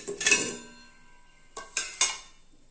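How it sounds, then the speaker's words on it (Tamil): Apple being cut for fruit sarbath, a burst of knife clatter and clinking against a plate or board at the start, then two more short clinking strikes after a pause. "ஆப்பிள் வந்து இந்த மாதிரி கட் பண்ணிக்கங்க"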